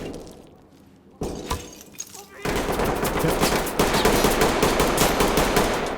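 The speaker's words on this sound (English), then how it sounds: "Okay, I'm hearing gunshots." In the tactical shooter game Ready or Not, sharp gunshots crack indoors around a school classroom, then break into rapid bursts of gunfire with shattering impacts, loud and close.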